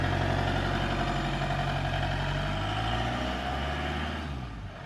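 A diesel van engine idles after glow-plug preheating, a steady low rumbling chug close by that softens slightly toward the end, with no talking over it.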